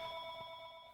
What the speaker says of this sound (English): he forgot to shut his household phone audio off